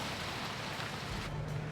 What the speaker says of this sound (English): with the rain our constant companion